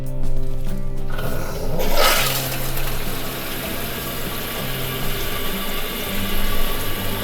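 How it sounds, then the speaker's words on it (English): Water rushes into a toilet tank after the supply valve is turned on during installation, a steady loud hiss and roar that continues throughout with no talk. "You can turn on the water. See what happens."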